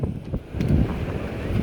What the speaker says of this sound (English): It's cool and windy.